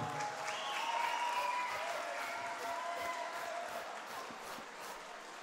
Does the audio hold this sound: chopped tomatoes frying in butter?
no